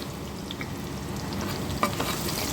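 Onion sizzles steadily in hot oil for a fish curry, with a green chilli dropped in. The frying hiss is continuous and close, with a brief sharper crackle near the end and no voices.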